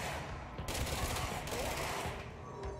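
Enemy shooters firing in the action game Control, a dense rattle of rapid gunfire lasting throughout, fairly loud and close with a busy, continuous texture.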